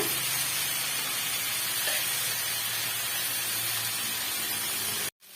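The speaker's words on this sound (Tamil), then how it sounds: "இந்த தக்காளி பழம் தேங்காய் இது எல்லாமே வந்து நல்லா வந்து வதங்கி வரட்டுங்க" Tomato, coconut and onion sautéing in a pan, giving a steady close hiss and sizzle throughout that cuts off abruptly at the end.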